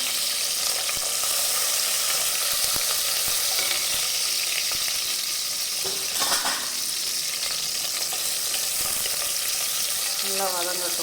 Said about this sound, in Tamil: நல்லா வதங்கட்டும், கொஞ்சம் ப்ரௌனிஷாக வதங்கணும்.